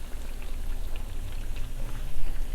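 Steady crackling sizzle of donuts frying in hot oil, a dense bubbling hiss that holds close and constant throughout.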